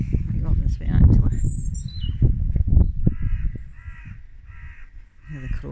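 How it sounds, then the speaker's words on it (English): Crows caw repeatedly in the open outdoors, several loud harsh calls in uneven bursts, with smaller bird chirps and some low handling or movement noise around them. "The crows."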